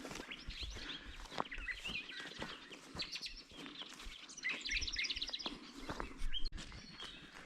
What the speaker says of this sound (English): Can you all hear the birds?